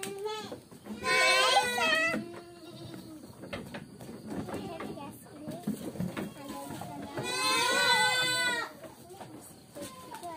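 Goats in a goat pen on a farm, giving two loud wavering bleats close by with quieter animal and background sounds between them.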